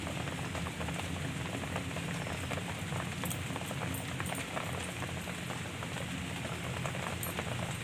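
Ghee goes into a hot pan while making rasmalai, producing a dense, even hiss and sizzle that holds at a constant loudness throughout, close and without speech.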